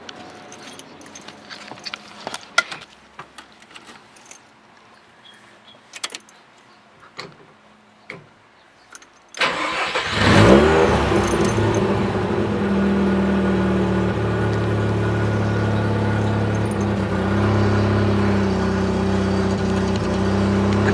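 A Mazda RX7 FC rotary engine, freshly serviced with new fluids, radiator and fan, starts after some light clicks and handling noises, then idles steadily with a loud, even drone up close.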